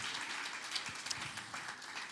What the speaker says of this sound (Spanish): Ese aplauso fuerte es para usted.